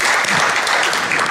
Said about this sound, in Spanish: Un aplauso también para él entonces